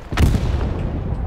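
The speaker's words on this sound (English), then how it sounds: "Sounds like the T-34 might have just gone bang." A T-34 tank blowing up in the Stalingrad map of Hell Let Loose, a single heavy boom with a rolling tail that fades over about a second, loud and alone.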